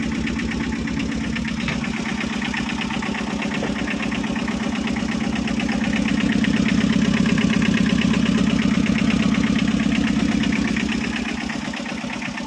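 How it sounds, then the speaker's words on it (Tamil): A Tata Ace HT mini truck engine runs at a steady idle with a fast, even diesel-like chug and vibration, close and continuous, rising slightly in the middle, with no voices. "வண்டி ரன்னிங்கில் தான் இருக்குது."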